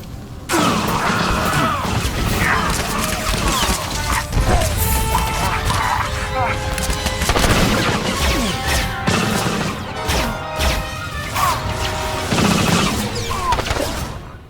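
Soldiers open fire in the Star Wars: The Old Republic game on Coruscant, a dense, continuous barrage of blaster shots and crashing impacts layered with music and battle noise, with voices calling out over the din.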